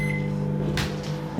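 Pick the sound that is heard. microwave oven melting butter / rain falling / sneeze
microwave oven melting butter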